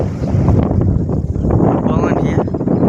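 Strong wind blows across an open farm field, buffeting the microphone with a dense, continuous low roar that swells and dips without pause.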